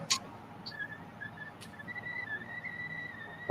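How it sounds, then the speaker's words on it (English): A faint, thin, steady whistling tone drifts on and off inside a woodturning workshop, mostly alone over a quiet background with a few brief knocks. "I can hear a whistling noise."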